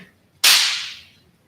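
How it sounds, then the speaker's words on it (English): A slapstick percussion instrument cracks once, sharp and loud, during a band concert, its bright snap fading over about half a second with no other sound around it. "Slapstick."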